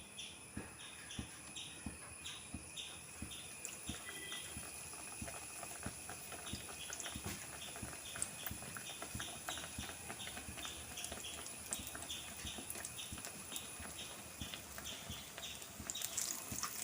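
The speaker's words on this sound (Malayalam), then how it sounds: "ഇനി നമുക്ക് കായ ഈ മാവിൽ മുക്കിയിട്ട് വെളിച്ചെണ്ണയിലേക്ക് ഇട്ട് കൊടുക്കാം കേട്ടോ." Raw banana slices dipped in batter for kaya bajji fry in hot coconut oil, giving a soft, continuous bubbling crackle with scattered pops and light clicks, fairly faint and steady throughout with no voices.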